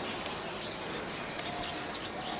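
Small birds chirp from a tower where they nest, a faint scatter of tweets drifting over steady outdoor noise at a distance.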